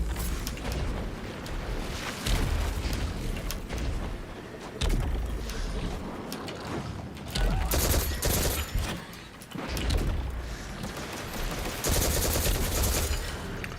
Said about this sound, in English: I haven't used auto rifles in a long time.